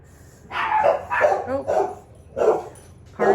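Dogs barking in a home kitchen, several sharp barks in separate bursts with short gaps between them, fairly close and loud with no talking over them.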